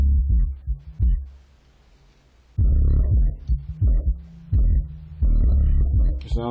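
Deep, booming bass pulses throb loudly in uneven bursts, with a short quieter gap early on, from a rebuilt subwoofer with a new voice coil pushing low notes.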